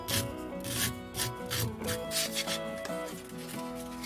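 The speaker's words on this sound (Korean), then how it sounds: "끝부분이 각이 져 있으니까 사포로 둥글게 갈아줍니다" Repeated scratchy rubbing strokes of sandpaper rounding the angled end of a hard carved wooden hairpin, fairly quiet, with steady music playing underneath.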